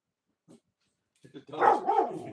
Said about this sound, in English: The dog saw another dog pooping in the middle of the road, so they were giving him hell.